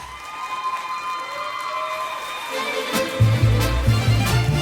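An audience applauds a singer after a performance with mariachi, the clapping and cheering building from a moderate patter into louder, denser applause toward the end.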